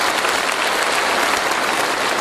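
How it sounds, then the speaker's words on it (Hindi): An audience claps loudly and steadily in a dense, continuous wash of applause at a group workshop, with no pauses. "एक बार जोरदार ताली के लिए आपका धन्यवाद।"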